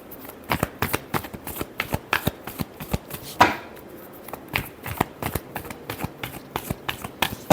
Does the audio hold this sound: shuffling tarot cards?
yes